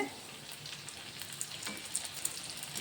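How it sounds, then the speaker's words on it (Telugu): Pieces of egg batter sizzle and crackle steadily in hot oil in a home kitchen, a continuous close frying hiss dotted with small pops, with no talking. "ఆయిల్లో వేయంగానే ఎట్లా వంగుతున్నాయో"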